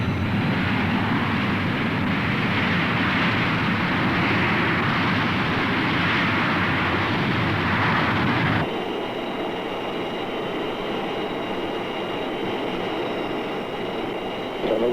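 A 1960s U.S. Air Force Strategic Air Command B-52 bomber roars on takeoff, a loud, sustained broadband jet rush that abruptly shifts to a thinner, whining tone partway through, with no talking.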